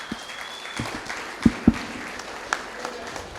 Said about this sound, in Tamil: உங்களின் கரகோஷத்தோடு